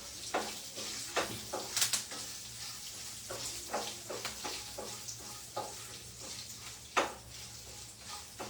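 Black pepper and cumin fry in hot ghee for a tempering, giving a steady close sizzle broken by frequent scraping and clinking stirs against the pot, with no talking.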